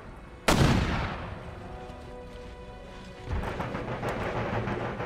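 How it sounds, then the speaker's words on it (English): Artillery fires in the strategy game Empire Total War as one sudden loud cannon boom that rumbles and fades, followed by a rising wash of distant battle noise. "All my artillery is engaging their artillery."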